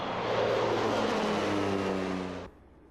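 An agricultural crop duster converted into a firefighting air tanker drones loudly past with a steady propeller engine hum, then cuts off abruptly, leaving quiet background.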